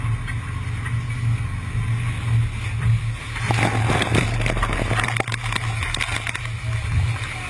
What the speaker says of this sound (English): Large waves slammed against the boat